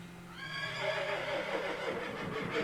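A horse in the comedy western game West of Loathing gives a long, wavering whinny that falls in pitch, fairly faint, followed by a few soft hoof clops.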